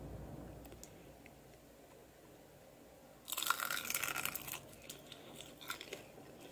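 Crunchy bites into an air-fried veg spring roll with chutney: quiet background, then a sudden burst of loud close crunching and chewing that fades into scattered smaller crackles.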